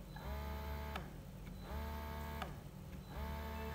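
Spectra 9+ breast pump motor running quietly, a soft cyclic whir that rises and falls in repeated pumping strokes about every three-quarters of a second, with faint clicks at each cycle change.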